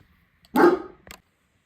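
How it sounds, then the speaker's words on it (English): A dog indoors gives one sharp, loud bark followed by a softer short yip, close to the microphone, with silence around it and no speech. "I'm going to go make the dog be quiet and give them a chance to dry."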